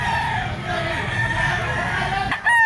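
Young dark-legged Talisay gamecock stags, straight-combed, crow loudly and close at a farm, with a sustained call and a fresh crow starting near the end, other fowl faintly behind.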